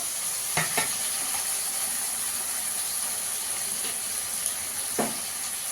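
Tomato and onion fry in a pan with a constant hiss and sizzle, broken by a few sharp clicks and scrapes of stirring.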